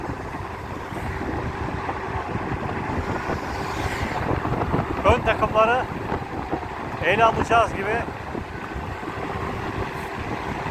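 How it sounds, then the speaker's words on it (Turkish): Wind buffets the microphone with a constant low rumble while someone talks intermittently over it. "İnşallah videoya sürekli rüzgar sesi gelmemiştir."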